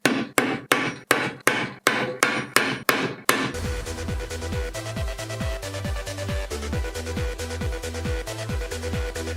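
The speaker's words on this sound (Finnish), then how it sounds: "Soft blows with plastic hammer" A plastic hammer strikes a DSG gearbox in a home-yard repair, giving about eight soft, evenly spaced knocks close up over a few seconds. Rhythmic music with a pulsing bass then takes over and continues to the end.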